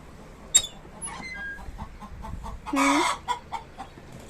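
Hen clucking while laying an egg on a farm, with scattered soft clucks, a sharp cackle and a louder squawking burst, fairly faint overall.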